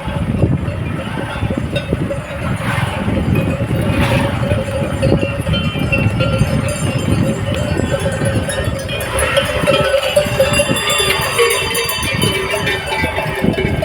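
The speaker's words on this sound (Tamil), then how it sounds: "எங்கள் வீட்டு பக்கத்தில் எவ்வளோ மாடு வருது பாருங்கள் எல்லாமே நாட்டு மாடு" A large herd of native cattle moves along a road, a steady mass of hooves, shuffling and bell clanks sounding nearby and continuous, with a busy rural outdoor bustle throughout.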